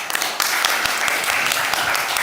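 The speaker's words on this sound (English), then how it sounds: "Just give yourself a round of applause." Conference audience at a global net-zero governance event gives a round of applause, dense continuous clapping that stays steady and fairly loud throughout.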